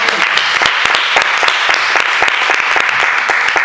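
A church congregation applauds together in a steady burst of clapping, loud, dense and close, with sharp individual claps standing out above the continuous wash of hands and no speech over it.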